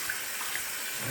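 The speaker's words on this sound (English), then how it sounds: "Warm water. Cut my hands, put some water in the sink. Swish it around." Warm water runs from a tap into a bathroom sink as a steady, soft hiss with no breaks, close and alone.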